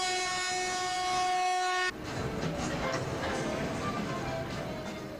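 A loud, sustained container train horn sounds for about two seconds and cuts off, followed by the rumble and rattle of the container train rolling past as it departs Tbilisi for Turkey.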